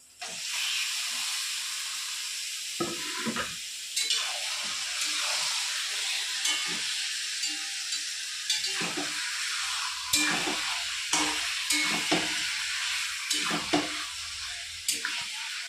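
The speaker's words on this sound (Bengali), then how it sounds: "আমার পেঁয়াজ ভাজা ভাজা হয়ে গেছে। এবার আমি চিকেনটা দিয়ে দেবো।" Chicken goes into a pan of fried onions for chicken kosha and sets off a loud hissing sizzle. Spatula scrapes and knocks thud through it again and again across the whole stretch.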